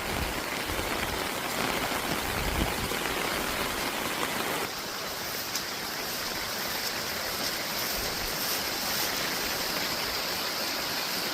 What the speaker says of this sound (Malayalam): സൈറ്റ് വന്നതും മഴ തുടങ്ങി.